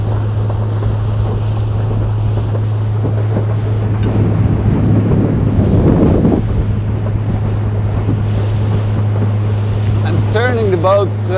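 A Boston Whaler 160 Super Sport with a brand-new engine is planing at speed, its engine drone and hull slapping through the water buried in heavy rushing wind buffeting the microphone, with a short chirping noise near the end.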